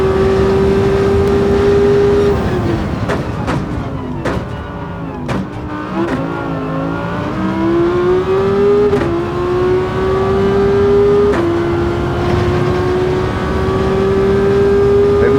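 Race car engine in the Gran Turismo video game screaming at high revs toward 10,000 rpm, loud and continuous, with pitch dropping and climbing again through gear shifts and several sharp transient clicks.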